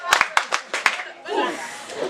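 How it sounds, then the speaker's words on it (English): A group performs a rhythmic clapping routine at a reading marathon session, sharp hand claps in a quick uneven pattern, then a burst of crowd noise and one final loud clap. "Champagne clap."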